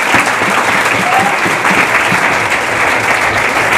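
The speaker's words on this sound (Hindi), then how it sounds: "आप उनके लिए जरूर तालियां बजा लें जिनकी बदौलत आप यहाँ बैठे" Applause from a seated audience at an Independence Day speech, loud sustained clapping from many hands filling the space without pause.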